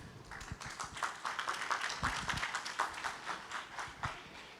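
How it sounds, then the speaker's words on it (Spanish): A congregation gives a welcoming round of applause, a fairly faint, quick, rhythmic patter of many hands clapping at a moderate distance. "vamos a recibir a nuestro hermano Aurelio con un fuerte aplauso"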